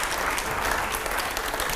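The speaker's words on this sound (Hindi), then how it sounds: "जोरदार तालियां रुकनी नहीं चाहिए" A studio audience at a Hindi television debate show claps in a brief, dense, steady burst of applause with no talking over it.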